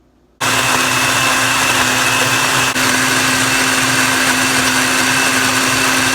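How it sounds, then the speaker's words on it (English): A kitchen blender whirs on abruptly and keeps mixing a smoothie with a steady, loud, high motor whine and churning, a brief dip midway, and no talking. "Mix the blender up until all of the chunks are smoothed out."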